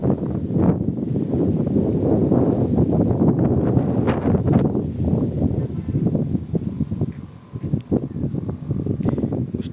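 Headwind blowing outdoors in an open area with towers nearby, a loud continuous rushing and buffeting against the microphone, swelling and easing in gusts.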